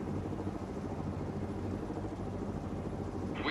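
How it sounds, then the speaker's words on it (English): Apache gunship helicopter in the World in Conflict video game, a steady dense low rotor rumble and engine drone holding at constant loudness throughout, with no voices over it. "Apache gunship here, sir."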